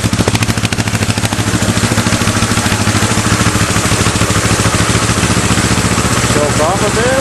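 A two-cylinder go-kart engine runs on both cylinders after a long idle, a loud, close, rapid chugging putter with steady beats throughout and a brief higher whine near the end.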